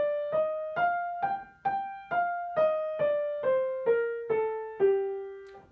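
On piano, a G natural minor scale rises and then falls as evenly spaced single notes, about a dozen in a steady walking rhythm, each clearly struck and decaying, played alone.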